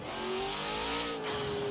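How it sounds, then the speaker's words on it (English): A Ford F150 Prerunner truck in the racing game Forza Horizon 4, its engine revving loudly in a sustained, rising drone that dips briefly near the end; no talking. "That sounds absolutely nasty."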